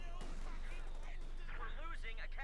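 Machine gun fire in the real-time strategy game Company of Heroes 2, muffled bursts low in the mix beneath a commentator's voice.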